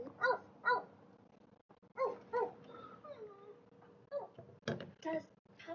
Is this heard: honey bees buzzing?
no